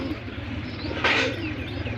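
Fancy pigeons with feathered feet coo softly near their chicks, a low murmuring coo over a steady background hum, with one brighter burst in the middle.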